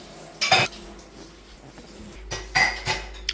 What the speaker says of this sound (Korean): 식사 후 설거지.